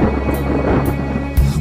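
Stormy sea effect in an animated pirate scene, a steady loud rumble of wind and rain with brief crackling bursts and a low thunder thump near the end.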